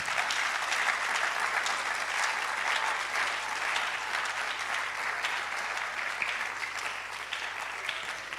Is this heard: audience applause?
yes